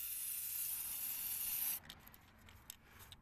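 One long, close hiss of an aerosol spray can coats a plastic truck grille during a first coat, then cuts off abruptly, leaving faint clicks and a quiet room.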